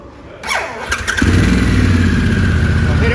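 A Harley-Davidson Pan America motorcycle engine cranks with a brief starter whine, then catches and settles into a loud, steady idle rumble close by.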